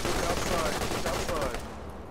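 Rapid automatic gunfire in the Arma 3 military shooter during a town raid, a dense sustained burst of shots that trails off toward the end.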